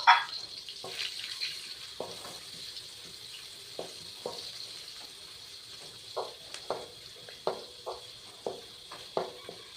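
Chopped onions stirring in hot oil in a pan: a soft, steady sizzle with a string of short, crisp scrapes from a spoon that grow more regular and frequent toward the end.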